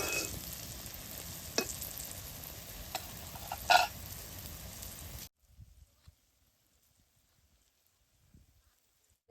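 Taro stem chips fry in hot oil with a steady crackling sizzle and a few louder stirring clinks, then the sound cuts off abruptly, leaving near silence with faint scattered knocks.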